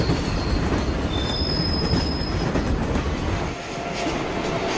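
A heavy-haul coal freight train runs along a Chinese railway line out of Datong, Shanxi, with a loud, steady rolling rumble of wagons and wheels and a thin, high squeal riding on top, close by with no talking.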